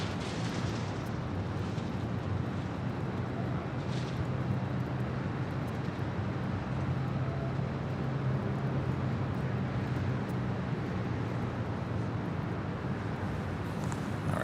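American 169 Heavy, a wide-body airliner, takes off from runway 25 right at Los Angeles International Airport, with a steady, loud, broadband jet engine roar that holds throughout.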